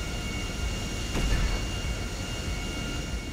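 A plane's engine drones steadily while flying in GTA 5, a constant loud broadband roar with no pauses and no talk.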